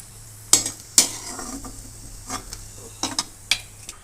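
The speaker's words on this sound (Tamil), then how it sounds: "நல்லா வறுத்துங்க சும்மா போயிட்டு ஒரு முப்பது செகண்ட்லேயே வறுத்ததுக்கப்புறம் எடுத்துருங்க" Chutney ingredients for dosa are dry-roasted and stirred in a pan, with sharp spatula clacks and scrapes against the metal over a faint background hum.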